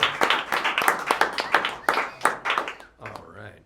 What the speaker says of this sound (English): let's have a big round of applause for Big Willie Palmer.